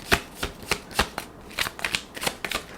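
Tarot cards being shuffled by hand in quick, irregular riffling bursts of crisp papery slaps, close and fairly loud, with no voices.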